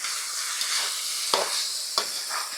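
Chicken fried rice sizzling hard in a hot pan with oyster sauce added around the edge, a steady bright hiss broken by two sharp scraping stirs.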